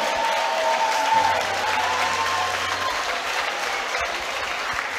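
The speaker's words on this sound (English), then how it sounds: "both these guys deserve a huge round of applause" A crowd applauds fighters after an MMA bout at an SCFC event, sustained loud clapping and cheering filling the venue.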